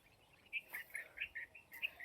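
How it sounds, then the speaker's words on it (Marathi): Small birds in a sugarcane field give a run of faint, quick high chirps and tweets at a distance, with no voices. "बघा पक्षी इकडंच अजून खेळते ते."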